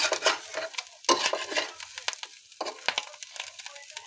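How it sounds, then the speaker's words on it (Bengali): A shrimp mixture is stirred and fried in a pan for a shrimp bharta, with scraping strokes of a spatula over a steady sizzle. The strokes come close and fairly loud, with no voices. "দেখেন এখন সব মিক্স করে ভেজে নিচ্ছে"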